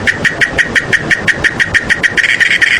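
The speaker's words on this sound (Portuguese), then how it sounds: "Esse é o som da cigarra." A cicada buzzes loudly and close in a fast, regular series of pulsing chirps that repeat about five times a second, alone.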